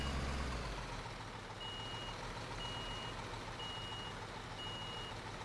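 Reversing beeps from a truck in the Construction Simulator video game sound as four evenly spaced, high electronic tones over a low, steady engine rumble, fairly faint and with no talk.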